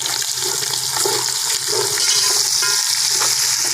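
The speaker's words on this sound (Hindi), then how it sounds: "मसाले को हमने अच्छी तरीके से भून लिया है।" Spices sizzle and fry continuously in a pot for Peshawari chana pulao with salt and turmeric, a loud, close, dense crackle that stays steady throughout.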